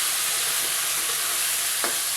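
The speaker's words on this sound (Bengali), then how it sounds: "ডালের সাথে অন্য অন্য মশলা দিয়ে এখন এটা ডালটা ভালো করে কষিয়ে নেব" Red lentils with turmeric, chili, cumin and salt are stir-fried with onion in a pan, giving a loud, even sizzle with a few scraping stirring strokes near the end.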